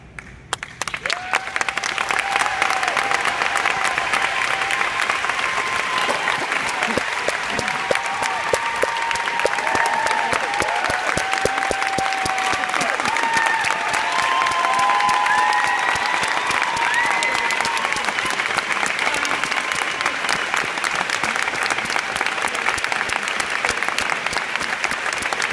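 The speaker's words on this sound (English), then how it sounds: "Please join me in giving one more round of applause." An audience at a Pampered Chef summer conference claps loudly and continuously, a dense sustained wash of applause from a large crowd that holds steady throughout.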